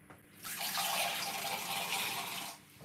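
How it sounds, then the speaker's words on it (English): About two cups of water pour from a tap into a cooking pot, a steady rushing splash that swells in, holds for roughly two seconds, then cuts off. "we're gonna put roughly about 2 cups of water into the pot"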